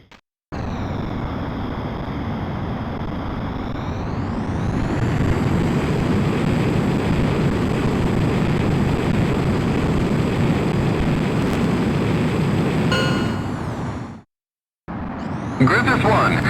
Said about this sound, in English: you are cleared for takeoff.